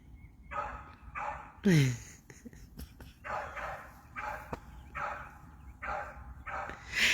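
A dog whines with a rising whimper and barks in short repeated bursts nearby, loud and insistent, the yelps coming in an uneven rhythm over several seconds.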